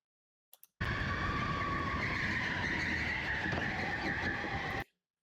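Race car engine in a racing video game: after two brief blips, a loud, steady high-pitched engine roar with tire-like hiss holds for about four seconds, then cuts off abruptly, with no voices.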